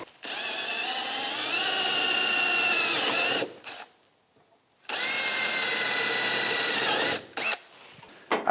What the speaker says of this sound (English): So if you want to use a hand drill